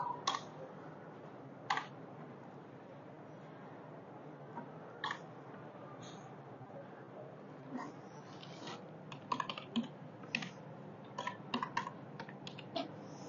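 Keys clatter on a computer keyboard as data goes into a spreadsheet, sparse isolated taps early on giving way to quicker bursts of typing near the end, close and fairly quiet.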